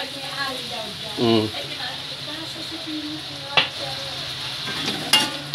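A spoon scrapes and stirs sweet and sour sauce for bangus in a pan, soft sizzling underneath, with a couple of sharp utensil clinks against the pan and a voice talking briefly over it.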